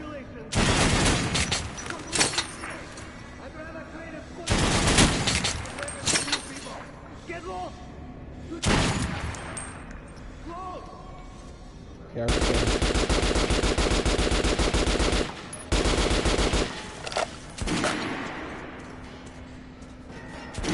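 Bursts of RPK machine-gun fire in the shooter game Metro Last Light, loud sustained volleys alternating with short pauses and quieter stretches, with a player talking at times.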